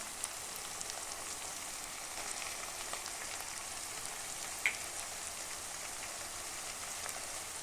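Curry leaves and ginger garlic paste fry in oil for a chicken green chilli coconut curry, making a soft, steady sizzle with scattered small crackles and one brief pop.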